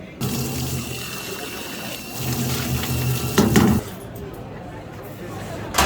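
Tap water runs steadily while a beer glass is rinsed at a busy Munich beer garden, loud and close under people talking, with a brief glassy clink near the end.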